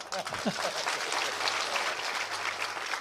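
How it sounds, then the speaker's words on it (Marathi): Kirtan audience clapping in unison in a large gathering, a dense, steady roar of applause that runs loud throughout, with a brief voice at the very start. "टाळ्या द्या"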